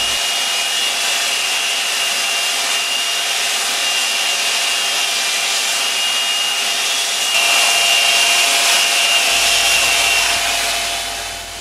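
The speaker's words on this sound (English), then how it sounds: "I use the pre-cut slots to see how deep I should sand." Power sanding of cured fiberglass laminate over plywood on a catamaran build, a steady, loud, continuous abrasive whir that runs unbroken throughout with no talking.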